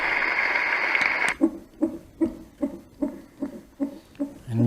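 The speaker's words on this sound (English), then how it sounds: "And you can hear like a ceiling fan noise." After a short burst of steady hiss, a roffie N600 white noise sound machine switches to its ceiling fan sound, a soft rhythmic whooshing pulse repeating about every half second, close and even.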